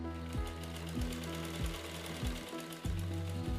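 A sewing machine stitches steadily in the foreground at a Usha Silai School, with a regular mechanical chug and a knock roughly every two-thirds of a second over a continuous whirring hum.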